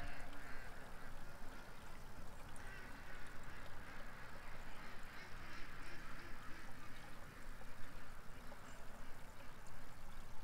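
A flock of ducks quacks in a garden, a dense, continuous chorus of overlapping calls that stays fairly loud throughout with no pauses.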